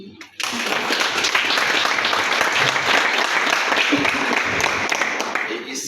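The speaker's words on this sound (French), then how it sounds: "il y a lieu ici de les féliciter en les applaudissant" Audience applauds after a French-speaking speaker invites congratulations, a sudden, loud, dense burst of many hands clapping that holds steady for several seconds, with faint crowd murmur underneath, before easing slightly near the end.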